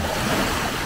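Gulf of Mexico surf washes continuously in a broad, steady roar mixed with wind, close and fairly loud with no voices.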